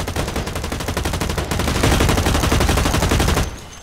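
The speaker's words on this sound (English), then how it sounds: "Who's shooting at me?" Rapid automatic gunfire rattles without a break in the online shooter Blacklight Retribution, a dense burst that grows heavier midway and then cuts off sharply near the end.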